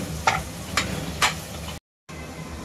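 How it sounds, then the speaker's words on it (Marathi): Mixed vegetables, including eggplant, are stirred with masala in a pan for Bhogichi Bhaji, a Sankranti dish, with a low steady sizzle and three distinct spoon scrapes, then a brief break. "चांगल्या पद्धतीने मिश्रण हलवून घ्यायचं आहे तुम्हाला"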